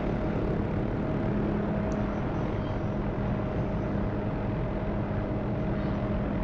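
An OH-6A helicopter flies low between trees in a flight game, its rotor and engine drone steady, loud and continuous with no talking.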